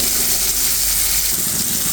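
Ash gourd frying with onions and green chillies in a pan, a steady loud sizzle and hiss that runs evenly without pause, close up and dense.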